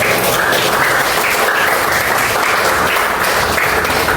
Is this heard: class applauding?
yes